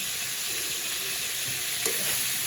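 Boiled potatoes are tipped into a pan of fried spice paste, which gives a steady, close sizzle with a brief clatter near the end and no speech.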